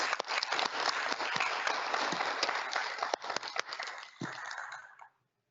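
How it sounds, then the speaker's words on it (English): A round of applause at a virtual dental school commencement ceremony: dense, steady clapping that continues for about five seconds, then thins and fades out, with no speech over it. "Please at home, give your supporters a nice round of applause."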